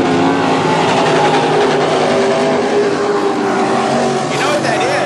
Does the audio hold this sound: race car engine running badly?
yes